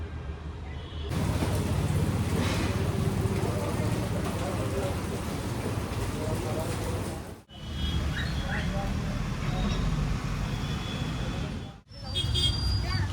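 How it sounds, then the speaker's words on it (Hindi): Steady rain falling outdoors, a broad continuous wash with a brief pause, starting up in a Dhanteras festival setting with faint traffic behind. "ऐसा लग रहा है कि बारिश शुरू हो गई।"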